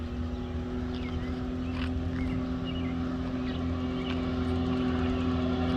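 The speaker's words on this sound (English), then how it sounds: "Brandy is driving it just around the block so I can get a look at it and see how it looks now" A Can-Am X3 side-by-side drives around the block, heard as a steady, droning engine hum held at an even level throughout, without talk.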